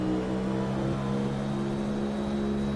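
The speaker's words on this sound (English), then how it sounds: "I'm starting to get a little bit more comfortable in the upper rev range on this bike" Motorcycle engine held high in the upper rev range on the Nurburgring track, a steady, droning whine at constant pitch with wind noise, continuous and close.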